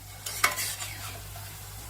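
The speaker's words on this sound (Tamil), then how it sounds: "ஒரு மீடியம் ஃப்ளேம்லேயே வச்சு 2 பக்கமும் நல்லா திருப்பி விட்டு ஃப்ரை பண்ணிக்குவோம்" Pakoda deep-frying in oil over a medium flame gives a faint, steady sizzle, with a sharp metallic clink of a utensil near the start. Nobody speaks.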